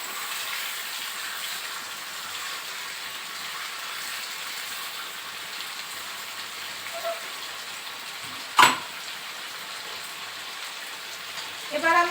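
Fish head frying in hot oil with onion gives a steady, even sizzling hiss throughout, broken by one sharp clink of a utensil near the end.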